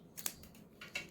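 Scissors snip through a stuck plastic bag, with two sharp cuts about a second apart, close and fairly quiet, with no talking.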